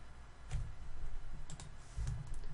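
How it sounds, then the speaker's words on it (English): Faint keystrokes on a computer keyboard while someone enters array values in a programming lesson: a few soft, scattered clicks over a steady background hiss. "We're actually typing the column that we want."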